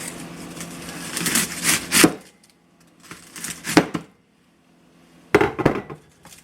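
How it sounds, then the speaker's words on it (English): A large, sharp knife chops an onion on a board in quick bursts of sharp cuts, roughly half a second to two seconds each, separated by short pauses. The chopping is close and fairly loud with no talking. "We're going to take an onion and we're going to butcher it with this sucker here."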